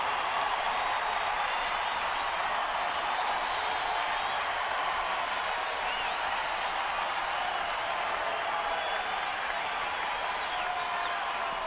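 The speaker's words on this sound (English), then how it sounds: "Crowd getting into it." Baseball stadium crowd at a Rockies at Giants game in San Francisco, a steady wash of cheering and applause, loud and continuous with no single voice standing out.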